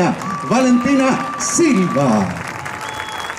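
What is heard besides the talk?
applause for the new harvest festival queen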